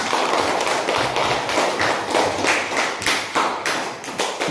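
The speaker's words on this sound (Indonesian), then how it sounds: "beri tepuk tangan" A classroom of students applauds for the third group, a dense, sustained burst of many hands clapping with uneven peaks throughout, fairly close and loud, with no talk over it.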